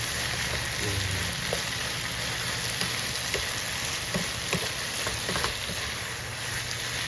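Potatoes and egg frying in a pan as they are stirred, giving a steady close sizzle with a few soft scraping and tapping sounds from the stirring, no talking.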